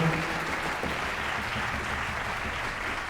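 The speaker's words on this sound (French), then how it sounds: "Sous vos applaudissements, s'il vous plaît." A concert audience claps steadily, a dense, even wash of applause that continues unbroken from start to finish.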